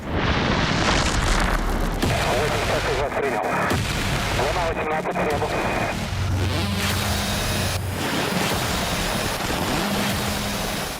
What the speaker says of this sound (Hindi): रूसी सेना से कीव के रिहायशी इलाकों में भी बमबारी की।